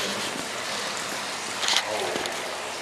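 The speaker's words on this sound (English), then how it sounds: "You can hear all the water dripping in the background." Water drips and trickles from the concrete ceiling of an abandoned railroad tunnel, a steady wet hiss with a few faint splashes echoing in the enclosed space.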